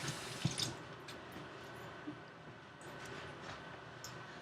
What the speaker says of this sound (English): you want to wash your hands because you just touched the meat